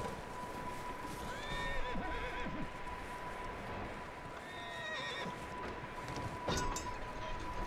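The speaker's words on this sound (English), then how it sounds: "Hey, there might be a horse in here." A horse whinnies a couple of times amid steady noisy game ambience in Red Dead Redemption 2, with faint hoof clatter and a constant tone running underneath.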